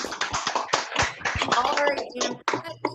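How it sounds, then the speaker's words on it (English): Scattered clapping from several people, uneven and slightly compressed as if over a call, with cheering voices mixed in. "And give me a good applause."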